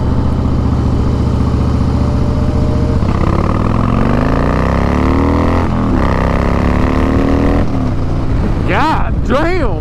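Harley-Davidson Fat Boy cruiser motorcycle with a steady, loud engine drone that rises in pitch as it accelerates through the gears, heard up close throughout.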